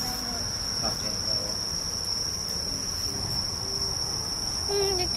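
Crickets chirp in a steady, continuous high-pitched trill, loud and close throughout, around a walk near Unseo Station in Incheon, with faint background noise and no talk.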